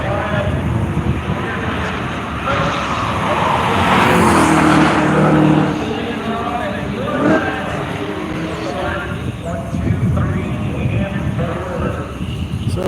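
The Michelin Corvette race car at Worldwide Technology Raceway roars past, swelling loudest mid-clip before fading into the background engine drone of the track, with people talking over it.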